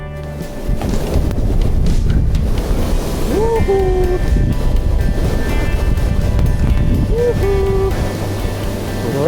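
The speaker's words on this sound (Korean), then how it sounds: "바람이 불어옵니다." Strong wind roars steadily across a snowy, steep mountain slope near the Hambaeksan summit in Taebaeksan National Park, a dense continuous buffeting that persists for the whole stretch, with a voice speaking over it.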